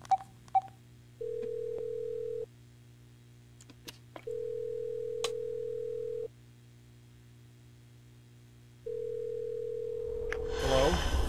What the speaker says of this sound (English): I shall use the office phone.